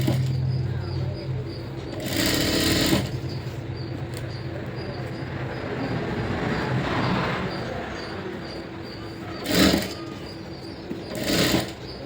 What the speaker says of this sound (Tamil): இப்போ வாங்க ஸ்டிச் பண்ணிடலாம்.